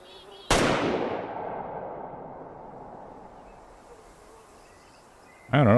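A single loud rifle shot from a .308 hunting rifle in Way of the Hunter 2 cracks out, then rings off in a long echoing tail across open country. A voice starts at the very end.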